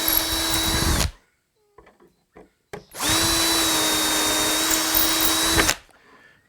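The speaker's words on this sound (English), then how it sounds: "Drill the 2 holes." A power drill with a 6-inch aircraft bit whirs loudly twice while drilling holes in a cabinet door, a short burst then a longer steady run, with faint clicks and handling noise in the pause between.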